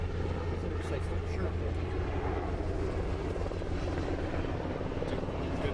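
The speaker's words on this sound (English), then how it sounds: "that's one of the choppers loading their bucket now. So we may just have to pause for a minute and let them fly over" Firefighting helicopter carrying a water bucket during a Bastrop County wildfire, its rotor drone loud and steady throughout, close overhead, with a brief spoken word over it.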